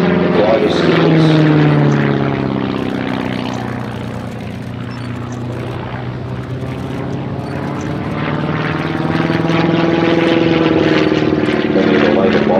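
Bücker Jungmann biplane with an 80 or 105 horsepower Hirth engine performing an aerobatic display at an airshow, a loud propeller drone rising and falling as it passes, while a commentator speaks over it throughout.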